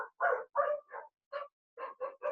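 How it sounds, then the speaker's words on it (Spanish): A dog barks in a run of about eight short, loud bursts close by, with brief pauses between them, in a home during an online nursing class. "Uy, qué perro pesado."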